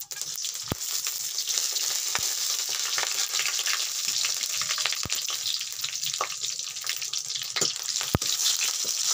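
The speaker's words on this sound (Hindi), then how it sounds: "तेल हमारा गर्म हो गया, तो मैं इसमें सारे खड़े मसाले डाल रही हूँ" Whole spices fry in hot mustard oil in a kadai, a dense, steady sizzle and crackle that runs throughout with a few sharp pops and occasional spoon clicks against the metal.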